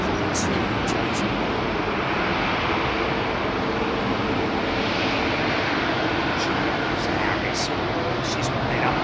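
At Heathrow on a busy evening, a jet airliner's engines run up for takeoff in a steady, loud, broad roar. Radio and tower chatter can be heard over the din.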